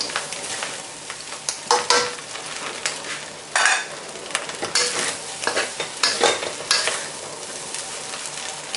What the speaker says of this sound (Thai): ก็เลยจะผัดให้สุกนิดนึงก็ชอบให้แบบเกลี่ยนิดนึงคือเร่งไฟนะคะตอนเนี้ย